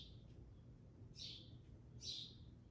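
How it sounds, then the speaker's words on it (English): A sparrow calling outdoors near its nest gives two or three short, high chirps, faint and distant against a low background hum. "listen to that sparrow outside trying to tell everybody to stay away from her nest and her babies"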